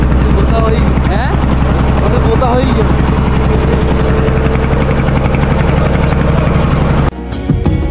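A trawler boat's engine crossing a river in Taltali, Barguna, a loud steady droning chug that runs continuously before cutting to a quieter, rougher sound near the end.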